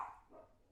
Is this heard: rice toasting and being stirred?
no